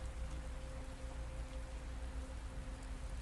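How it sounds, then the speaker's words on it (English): Steady heavy rain pours onto the Amazon forest canopy, a dense unbroken hiss of drops with no other sounds breaking through. "Those same endless drops hammering against the canopy, creating that white noise that swallows all other sounds in the Amazon."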